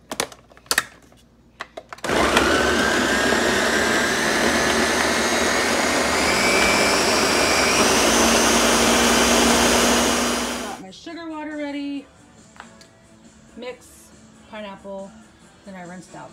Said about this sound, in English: So I have all the pineapples in the ninja. I'm just gonna grind them up.